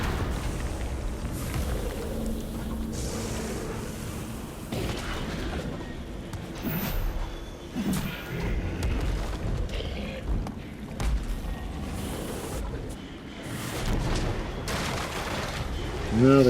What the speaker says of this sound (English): Grog artillery is your main thing for attack and defense